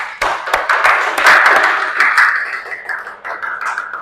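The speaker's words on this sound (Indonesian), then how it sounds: "Tepuk tangan semuanya." A classroom group applauds in a teacher-training session, a loud close burst of hand claps lasting about four seconds, uneven and fading slightly toward the end.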